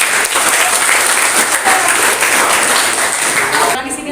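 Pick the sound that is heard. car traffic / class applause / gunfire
class applause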